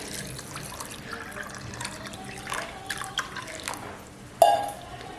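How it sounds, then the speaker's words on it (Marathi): Water running and splashing into a pot of washed peas in a steady trickle, ending with a louder splash. "हे बघा एवढं पाणी टाकते"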